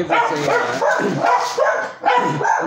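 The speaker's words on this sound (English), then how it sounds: "my dogs are going crazy" Several dogs bark excitedly indoors, loud, close and overlapping in irregular bursts, with some yips and whimpers mixed in.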